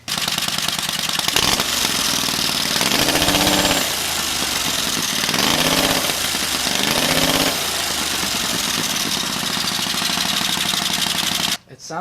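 A V-twin 670cc buggy engine fitted with a mini turbo runs steadily and loudly up close, a rough, rich-sounding idle with a few revs swelling and falling before it cuts off abruptly near the end.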